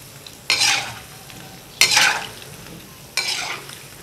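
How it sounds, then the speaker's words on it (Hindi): A spoon stirs gulab jamun made from milk powder as they fry in a pan of hot oil. Three distinct bursts of sizzling swell and fade over a low, steady frying hiss, close and with no talking. "मुसलसल आपने चम्मच चलाना है,"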